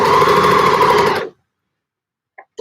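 Overlocker sewing machine running as it trims fabric, a steady loud whir for just over a second that stops abruptly, followed by silence and a couple of faint brief clicks.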